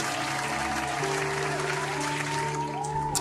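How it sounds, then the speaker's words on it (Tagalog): A church congregation applauds during a morning worship service, a steady wash of clapping heard at moderate distance beneath lingering organ or keyboard tones. "Isang malakas na palakpak sa ating Diyos na buhay."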